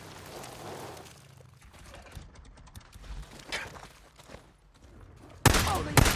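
Sniper gunfire in the video game Days Gone: a loud burst of shots erupts near the end, after quieter game ambience and scattered clicks.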